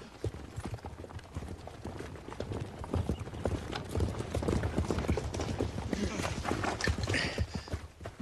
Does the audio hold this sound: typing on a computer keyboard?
no